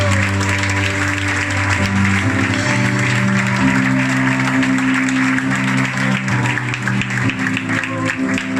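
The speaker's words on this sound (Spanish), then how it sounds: "Dale un aplauso fuerte a Dios" A church congregation claps loudly and continuously at the close of a sermon, while sustained organ or keyboard chords play steadily underneath.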